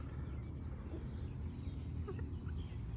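A small, feisty pet hen makes soft, faint clucks in a backyard coop, low against steady outdoor background noise.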